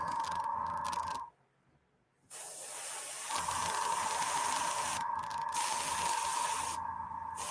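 An airbrush sprays paint onto a figure's flesh base tones in steady hissing bursts, cutting out briefly for a second of near silence before resuming in a long, close, continuous spray.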